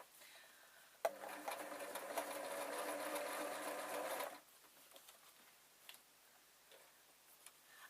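Sewing machine stitching a leatherette cover onto a pair of trainers to turn them into pirate or dwarf boots, running as a steady close mechanical whir for about three seconds, then stopping with small handling clicks afterward.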